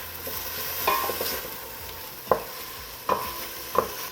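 Cabbage and tomatoes frying in a pan, with a soft steady sizzle broken by a few sharp knocks of a utensil stirring against the pan.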